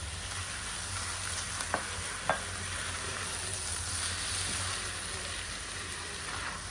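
Condensed milk for halwa sizzles softly in a pan while being stirred, with a steady faint frying hiss and a couple of light scrapes from the spoon.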